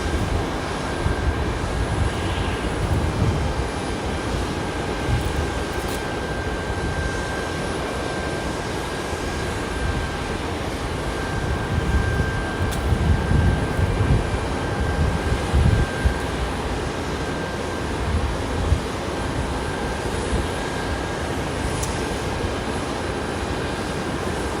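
An aircraft at Boise airport produces a steady, broad roar that rises and falls gently for the whole stretch, heard from a moderate distance with no voices.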